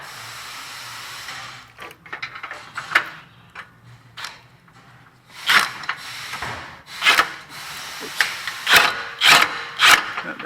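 Wrench work on a Honda axle and transmission seal job: a ratchet turns bolts down in bursts of quick clicking strokes with metallic rubbing, close and fairly loud, with short pauses between runs.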